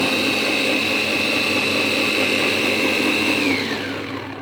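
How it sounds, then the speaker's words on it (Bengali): An electric mixer grinder whirs steadily and loudly as it blends green chilies and coriander leaves into a paste, a constant motor drone that winds down at the end. "এখানে কাঁচা লঙ্কা, ধনে পাতা বাটা করছি"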